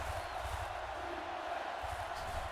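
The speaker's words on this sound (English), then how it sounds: "And the Gators cheering on their defenses" Kingston Gators fans cheer for their defense during a muddy football game against the Michigan Hellcats, a steady, continuous crowd roar filling the whole stretch with no voice standing out.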